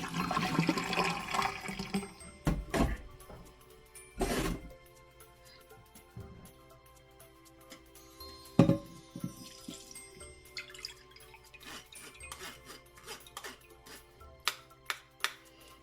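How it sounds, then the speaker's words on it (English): Sorrel drink is poured and strained through a smaller strainer, liquid splashing and trickling at first, then settling into scattered drips and light clinks at close range. "So I'm going to use a smaller strainer and strain it one more time."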